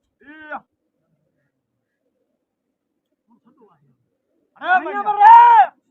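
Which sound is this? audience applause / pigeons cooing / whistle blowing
pigeons cooing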